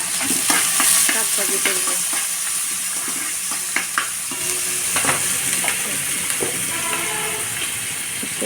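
An egg fries in a pan with one side already cooked, giving a steady sizzling hiss broken by scattered clinks and scrapes of a utensil, with a brief voice near the end.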